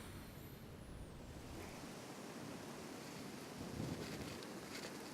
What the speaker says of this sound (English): The wind is blowing just a little bit harder than we want it to.